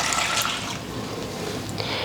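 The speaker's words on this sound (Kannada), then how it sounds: "ನಾ ಒಂದು ಗ್ಲಾಸ್ ನೀರು ಹಾಕೋತೀನಿ ನೋಡ್ರಿ." A glass of water is poured over cut tomatoes in a cooking pot for homemade tomato sauce, a steady close splashing gush lasting about two seconds with no voices.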